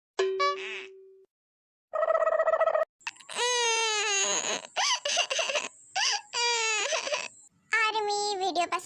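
Tiki, a baby, crying in wavering, high wailing bursts separated by short pauses, close and clear, mixed with brief tonal sounds at the start.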